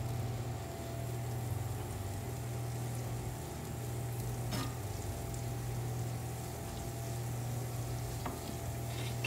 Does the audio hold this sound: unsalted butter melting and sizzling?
yes